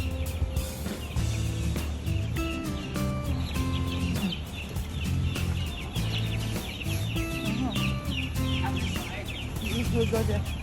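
Many chickens cluck and squawk continuously at a chicken farm, a dense, busy flock close by with no talk over it.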